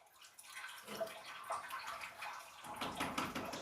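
Water carrying paper pulp made from old clothes pours from a height onto a papermaking screen, a steady close splashing and trickling flow that swells and continues without pause.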